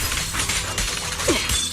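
An ice-shattering attack effect from the game Zenless Zone Zero: a brief crackling break over busy combat sounds and music, with a short sliding tone near the end.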